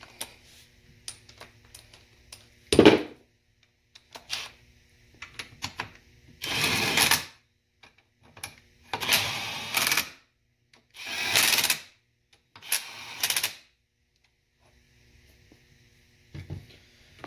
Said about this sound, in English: the valve body just to make sure we have it lined up. And we're going to snug this down.